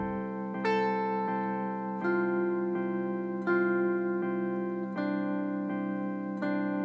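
A clean guitar plays a slow melody of single plucked notes ringing over a sustained chord, each note struck distinctly and left to ring.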